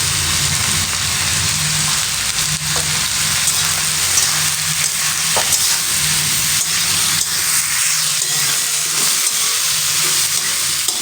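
Sliced ridge gourd sizzling in a pan with turmeric and salt, stirred with a utensil; a steady loud crackling hiss continues throughout with occasional scraping clicks.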